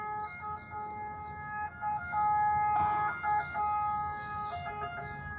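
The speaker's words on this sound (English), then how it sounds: "the siren in the background, it's annoying" A wailing siren rises and falls in the distance, steady and faint against outdoor background noise, with no one speaking.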